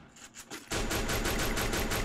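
Rapid automatic gunfire in the Free Fire video game, with a few scattered shots first, then a loud, sustained, evenly spaced burst of fire.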